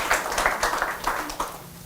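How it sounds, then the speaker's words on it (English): Audience at a constitutional law panel event giving a round of applause for a litigation lawyer, scattered hand claps pulsing over a short stretch, moderately loud and close. "Let's give Adam a round of applause"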